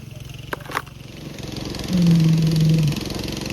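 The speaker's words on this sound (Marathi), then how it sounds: "आता ट्रॅक्टर चालवलं की न्यू वर्जन ऑफ ट्रॅक्टर" A steady low engine drone runs throughout, swelling into a louder, heavier rumble for about a second before settling back, with a couple of brief knocks early on.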